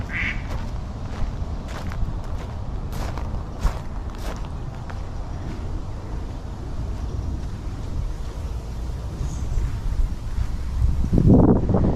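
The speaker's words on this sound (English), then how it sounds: "a duck is attacking the stork" Ducks at a campsite fishing pond give a few scattered quacks over steady wind noise and outdoor rumble, with some footsteps and a louder rustling burst near the end.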